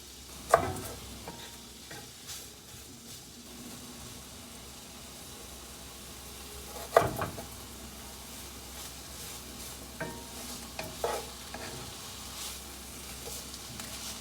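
Food sizzling and caramelizing in a pan, a faint steady fry hiss with a few louder scrapes and clicks of stirring scattered through it.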